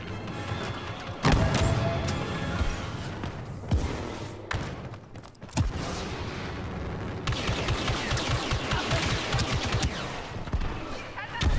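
Blaster gunfire from a Star Wars Battlefront II match: dense, loud bursts of shots and impacts that keep going with only short breaks, mixed with explosive thuds.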